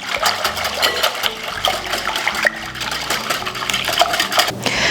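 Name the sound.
whisking egg yolks into custard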